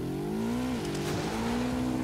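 Motorbike engine in Ghost Recon Wildlands, a steady, loud, humming drone with a slight dip and recovery in pitch, heard alone up close.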